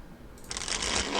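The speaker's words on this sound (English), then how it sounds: "One more shuffle." A deck of cards is riffle-shuffled once during a card game, a brief, close papery rush that starts softly and builds into a crisp flutter.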